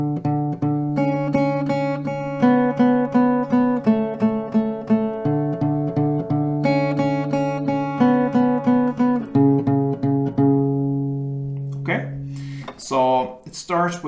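Acoustic guitar picking the C section of a song, clear single notes and sustained chords in a steady repeating pattern over two rounds, played alone and close, ending with a few scattered plucks.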